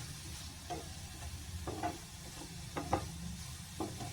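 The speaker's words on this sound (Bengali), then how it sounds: "এবার আমি দিয়ে দেবো এই যে রসুন, আদা আর কাঁচা লঙ্কা বাটাটা। এটাকে নাড়তে থাকবো।" Garlic, ginger and green chilli paste frying with browned onions, a low steady sizzle with a few soft scrapes of a spoon stirring the pan, quiet and close, no talking.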